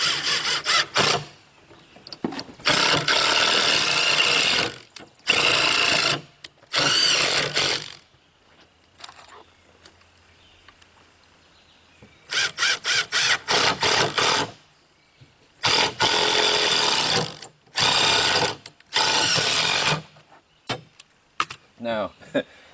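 A power drill drives deck screws into a tumbling composter being repaired, in repeated loud, close bursts of a few seconds each, separated by short pauses and quieter stretches of handling noise.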